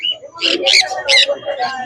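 Close pet birds at the Serampore pet market in Kolkata, giving a quick run of high chirps and whistled calls in uneven bursts.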